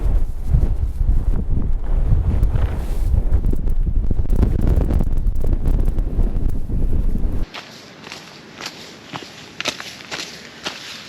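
Blustery coastal wind batters the microphone on a cliff-top coast path, a loud rumbling roar for several seconds before it abruptly drops to a quieter hiss with faint scattered steps.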